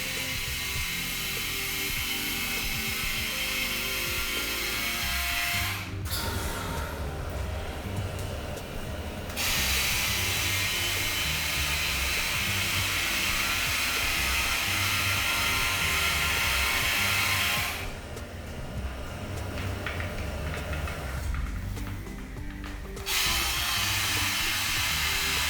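An Instyler rotating iron hot brush runs through hair with a steady, dense hiss and whir that continues almost unbroken and close, with a couple of brief dips partway through.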